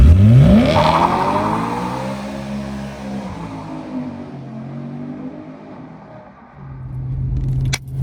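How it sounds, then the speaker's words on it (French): A BMW M3 E92 with a 4-litre V8 revs hard and accelerates, its engine note climbing loudly through gears, then settling into a steady drone before swelling again near the end. "Nous voici à bord de la M392 V8 4 litres de Yann."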